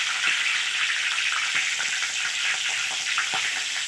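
Cumin seeds and a bay leaf frying in hot oil for Rajasthani shev bhaji make a dense, even sizzle throughout, with tiny crackles and pops scattered under the constant hiss.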